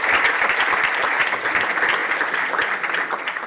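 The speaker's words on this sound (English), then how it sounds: "All right, good round of applause for Accenture." A hackathon kickoff audience claps for the sponsor Accenture, a dense, loud burst of applause from a crowd filling the room throughout.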